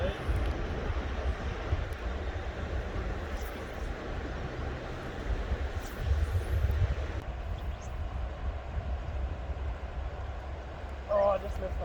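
A helicopter passes over a remote grayling fishing spot, a steady low drone and rumble heard at moderate distance, with people talking beneath it.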